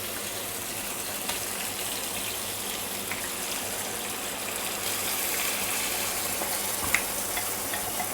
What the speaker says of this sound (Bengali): এবার আমি মশলা মাখা জলটা আমি দিয়ে দেবো।